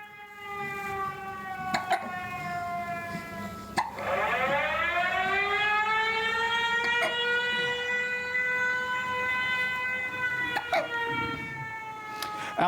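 Air raid sirens wail over a war zone in Ukraine, a steady harmonic tone that swoops upward and then holds, loud and continuous, with a few faint knocks and no speech.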